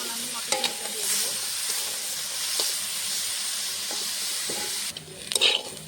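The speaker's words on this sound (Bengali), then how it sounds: "একটু হলুদ গুঁড়ো দিয়ে ভালো করে ভেজে নেবো গাজর আর আলুটা।" Carrots and potatoes fry with turmeric in a pan for a Bengali mixed vegetable dish, giving a steady close sizzle with scattered stirring clinks and a brief louder scrape near the end.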